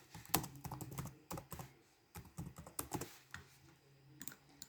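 Quiet typing on a computer keyboard, with irregular bursts of soft key clicks and brief pauses, close and alone without speech.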